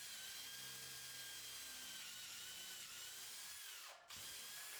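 A power drill bores holes into the underside of a wooden build, giving a steady high motor whine that holds for several seconds and then winds down abruptly near the end. It is close and heard alone.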